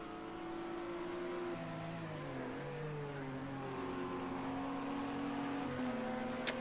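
LMP2 race cars in Project Cars 2 drone steadily with layered engine tones that rise and fall through gear changes, a continuous close-up whine with no talk and a brief sharp click near the end.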